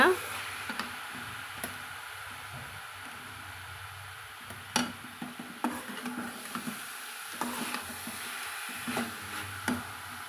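A thick jaggery and coconut milk sweet stirred in a pan over a medium flame, with soft scraping strokes and irregular ladle clicks against the pan over a faint background hiss.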